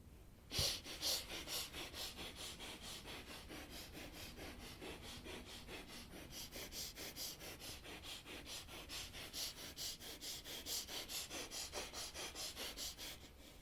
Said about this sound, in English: Continue breathing, please. Do not stop in the middle.